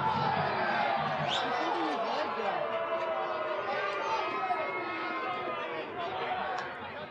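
Home crowd at an FC Edmonton versus Minnesota United soccer match reacting to a free kick given against Edmonton, a steady mass of murmuring and jeering voices filling the stadium, with some whistles rising above it.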